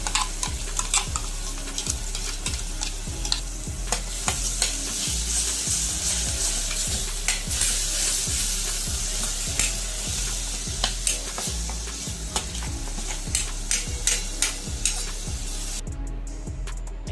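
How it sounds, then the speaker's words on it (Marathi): Ground masala paste for sev bhaji sizzles steadily in hot oil while a spoon scrapes and stirs it in a quick, repeating rhythm. The sound is close and continuous with no talking. "आता आपण त्यात बनवलेलं वाटण घालून घेऊ"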